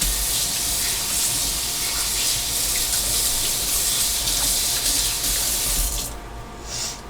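Chicken pieces with a thin, shake-and-bake style coating fry in oil, giving a steady, loud, close hiss and crackle that runs unbroken and eases off slightly near the end.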